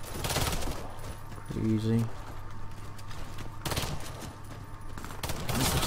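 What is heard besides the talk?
Python revolver gunfire in video game Warface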